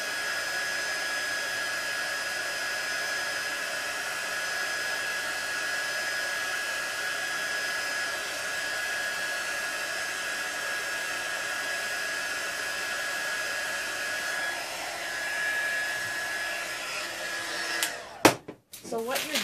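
A heat tool blows hot air onto metal for embossing powder, making a steady, close whirring hiss with a high tonal whine that runs unbroken until it cuts off abruptly with a few handling knocks.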